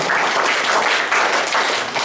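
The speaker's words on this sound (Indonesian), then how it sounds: "Tepuk tangan buat semuanya." Steady applause from a school audience at a high school event, many hands clapping continuously at a fairly loud level with no talking.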